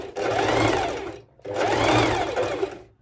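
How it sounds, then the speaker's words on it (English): Sewing machine stitching zigzag seams on a cowl-neck dress: two loud, close bursts of rapid mechanical whirring, each about a second long, separated by a short pause. "doing lots of zigzag stitches"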